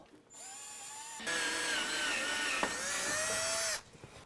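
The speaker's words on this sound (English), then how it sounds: "Now I'm going to drill my pilot hole." A power drill bores a pilot hole into the pinch weld of a 2020 Ram 2500 truck, its whining motor running steadily for a few seconds, rising in pitch as the bit bites, then stopping abruptly.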